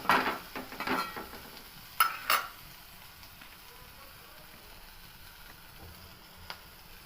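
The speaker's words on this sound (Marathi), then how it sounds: "त्याला थोडासा हलवून दोन्ही सगळे मसाले मिक्स करून घेऊ." Spices are stirred into cluster beans frying in a pan for village-style gavarichi bhaji: a few sharp scraping clatters at first, then a soft, steady sizzle with an occasional tick.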